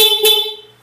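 Stock horn of a Honda ADV 160 scooter gives one short, loud, close honk that rings briefly and fades away.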